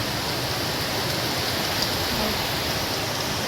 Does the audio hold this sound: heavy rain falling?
yes